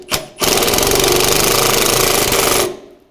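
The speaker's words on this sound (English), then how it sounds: "Now you can tighten up all the screws for the radiator." Radiator screws on a 2005-10 Volkswagen Jetta being tightened with a power tool: after a brief burst, a loud, steady rattling buzz runs for about two seconds at close range, then stops.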